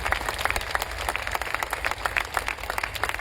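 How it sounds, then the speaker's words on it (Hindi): Loud, dense applause from an audience at a direct-selling event honoring AWPL founder Dr. Sanjeev Kumar, sustained clapping with scattered sharp claps throughout. "मैं चाहता हूं ऐसे महान शख्सियत के लिए एक जोरदार तालियां होनी चाहिए"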